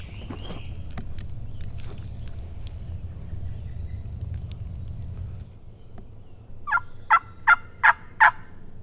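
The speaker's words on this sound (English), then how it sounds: "I'm pretty sure it's a gobbler." A wild turkey gobbler at the edge of a field sounds several loud, rapid gobbles in a burst near the end, after a quiet stretch of faint outdoor ambience.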